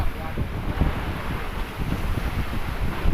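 Strong sea waves crash and wash around a boat off the west Philippines, a steady roar of water and heavy wind buffeting the microphone, with faint voices underneath.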